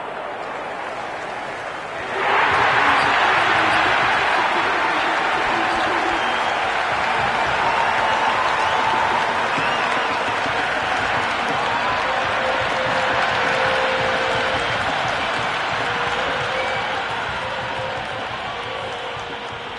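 Applause from the virtual crowd in the Cricket 26 video game swells suddenly into a loud, sustained wash of clapping and crowd noise, then slowly eases off.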